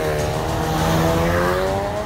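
A 2016 Ford Focus RS drives on a public road at dawn, its engine note climbing steadily under load, loud and close with road and tyre noise, no talking.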